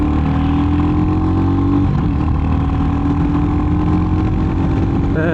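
A Royal Enfield Hunter 350 motorcycle ridden at full throttle through the gears on an open road, its engine a loud, continuous droning roar close by throughout, with no talking.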